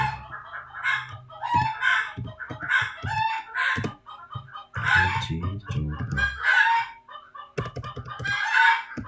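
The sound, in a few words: chicken clucking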